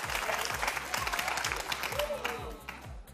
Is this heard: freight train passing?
no